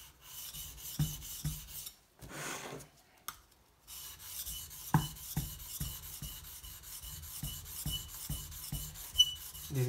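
Rasping strokes of a knife blade across a coarse Shapton Pro 120 whetstone, the hardest of three coarse stones compared, repeating in short rhythmic passes with a couple of brief pauses, close and moderately loud with no talking.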